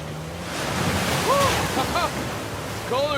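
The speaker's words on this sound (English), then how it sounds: "A secret cave behind a waterfall." Water roars steadily from a waterfall near a secret cave in the Uncharted 4 video game, a continuous close rushing wash with short voiced calls breaking through over it.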